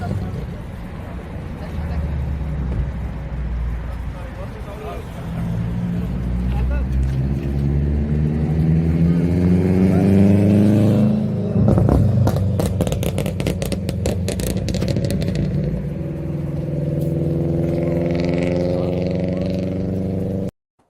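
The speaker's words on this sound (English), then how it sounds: "That was another car driving by." A car's loud exhaust drones as it passes on a street in Brampton, rising and then fading, with a crackling rumble in the middle and a steady engine hum throughout.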